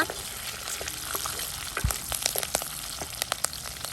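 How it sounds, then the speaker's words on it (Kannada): Five green chillies frying in hot oil in a pan while cooking a raw banana palya, giving a steady close-up sizzle with scattered pops and crackles and no talking. "1 ನಿಮಿಷ ಇದನ್ನು ಹೀಗೆ ಫ್ರೈ ಮಾಡುವ."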